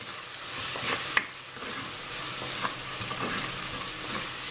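Onions and tomato sautéing in a pan for a Sri Lankan dry fish curry, giving a steady low sizzle with soft stirring scrapes and one sharp utensil tap, close and alone with no talk.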